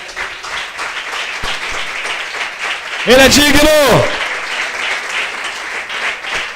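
A church congregation applauds the Lord during a worship service, a loud swell of clapping rising midway under a preacher's speech and fading back to talk.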